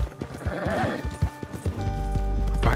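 Horse hooves clip-clop in the video game Red Dead Redemption 2, quick and close with a whinny, mixed with game sounds and a rising low rumble near the end.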